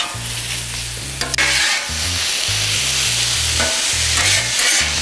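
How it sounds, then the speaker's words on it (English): Stir fry sizzles hard on a backyard flat top grill, a steady loud frying hiss broken by scraping stir strokes and a few short clanks of a metal spatula, with no voices. "A little stir fry on a flat top."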